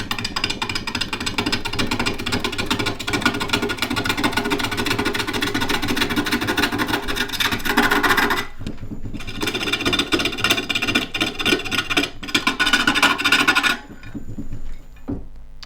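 A large shallow gouge cuts a wooden pawn spinning on a small lathe, producing a continuous close rasping, scraping roar that breaks off briefly twice and stops near the end.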